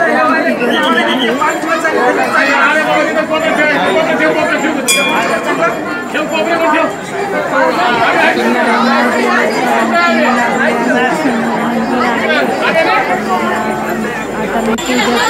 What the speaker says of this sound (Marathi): तुम्ही पाहू शकता किती गर्दी आहे।